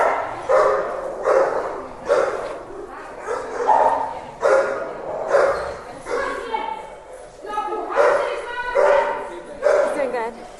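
A Bernese Mountain Dog barks and yips in regular bursts about once a second, loud and close, with human voices talking around the barking.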